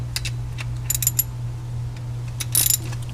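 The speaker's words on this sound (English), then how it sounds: "remove the 13 mil bolt that's holding this on" A ratchet works a 13 mm pulley bolt on a RAM 1500, a few short bursts of close clicking over a steady low hum, with a louder ratcheting flurry near the end.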